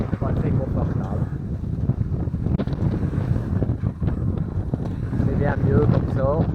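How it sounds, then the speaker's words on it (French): Strong freshening wind on a small sailboat at sea with a reef taken in the mainsail, a loud steady roar of gusts buffeting the microphone with water sounds beneath and a voice speaking over it. "Le vent forci, on a pris un riz dans la grand voile"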